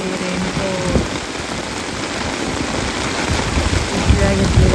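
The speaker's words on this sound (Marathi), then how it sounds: "बघा कसला जोरामध्ये पाऊस पडतो." Heavy monsoon rain pours down steadily, a dense loud hiss of drops hitting surfaces close by, with people sheltering under umbrellas; faint voices and low rumbles sit beneath the continuous downpour.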